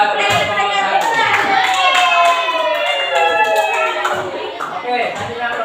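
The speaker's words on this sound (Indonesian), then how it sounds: "Kasih tepuk tangan buat kelompok 1." A classroom of students clapping for a presenting group, quick close handclaps over a bright sustained musical tone, with children's voices mixed in.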